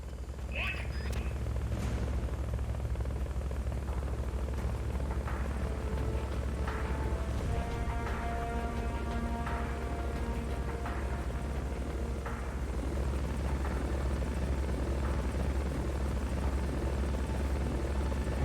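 A helicopter in the video game Metal Gear Solid: Peace Walker drones steadily with a constant rotor hum and beating blades, loud and unbroken throughout, with faint game tones over it.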